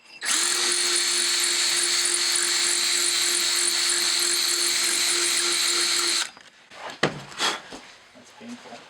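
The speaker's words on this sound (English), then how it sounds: "This is not how you're supposed to use a drill bit" A drill bit grinds steadily into a Mazda Miata exhaust part, a loud continuous whine holding for about six seconds before cutting off, followed by a few clunks and handling noises.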